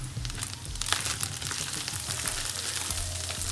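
Spiced minced meat sizzles and roasts on a pan while being stirred, a continuous close frying hiss with soft crackles and scraping throughout.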